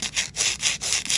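A nail file rasps back and forth across artificial nail tips while reshaping them, with quick rhythmic strokes, about five passes, close and loud.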